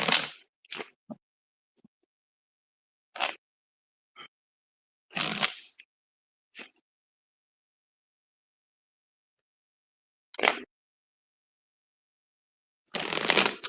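A deck of psychic reading cards is shuffled in short, crisp riffling bursts, about eight separate flurries spaced by silent pauses, close and fairly quiet.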